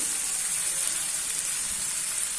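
Chopped tomato, onion, ginger and garlic sauté in a hot pan, giving a steady, even sizzle with a bright hiss and no breaks.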